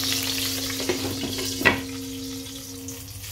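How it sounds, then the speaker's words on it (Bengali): Eggplant slices coated in sugar, salt and turmeric fry in oil in a wok, producing a close, steady sizzle with a brief clatter of a utensil midway and a low hum underneath. "একটু বেগুন কেটে আমি ধুয়ে একটু চিনি লবণ হলুদ মেখে নিয়েছিলাম, সেটাকে ভাজা বসিয়ে দিলাম"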